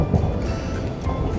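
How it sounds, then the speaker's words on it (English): Big fat raindrops start falling outdoors at a Wyoming garden while flower pots are being reset, a dense steady patter with low rumbling, loud and close, without talk. "Big fat raindrops."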